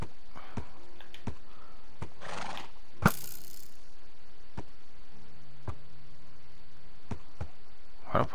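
A Minecraft horse whinnies in the game alongside soft repeated hoof clicks, one brief sharp neigh standing out over a quiet background hum.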